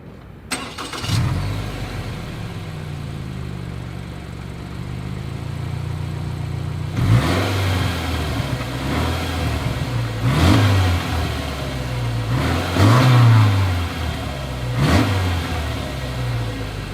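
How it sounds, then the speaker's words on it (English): A 2021 Subaru Forester engine starts, settles into a low idle, then is revved in several short bursts, the exhaust rising and falling close by with no talking. "here is that exhaust clip"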